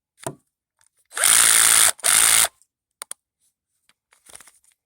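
A Black & Decker 20 volt battery-powered drill whirs loudly in two short bursts close by, with a brief click and faint handling noises after.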